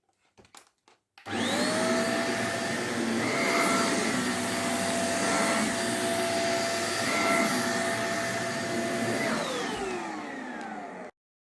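A KENT vacuum cleaner with vibration mode and UV disinfection switched on starts with a couple of faint clicks, then whirs loudly and steadily for about ten seconds before winding down.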